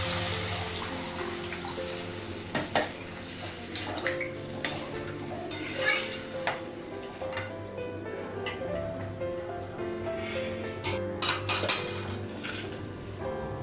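Water runs steadily from a tap into a sink while fish are washed, with soft clinks and splashes of handling scattered throughout, fairly quiet and without talking.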